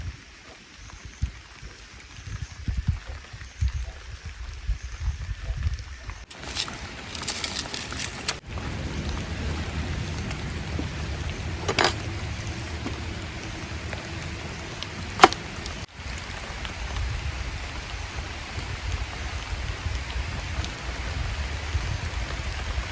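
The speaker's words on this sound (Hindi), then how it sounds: "बारिश पड़नी शुरू हो चुकी है। अभी बारिश धीरे धीरे पड़ रही है।" Light rain falling at a forest campsite in Uttarakhand, India, a steady soft patter over the surroundings with a few louder thumps and rustles nearby.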